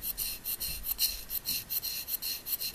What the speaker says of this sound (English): keep the scrapes long and smooth